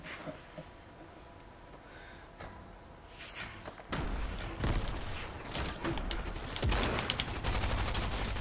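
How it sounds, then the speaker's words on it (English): Rapid bursts of laser gunfire from a Fortnite match, dense crackling shots and thuds that grow louder and busier partway through and keep going in quick volleys. "It's laser shooting."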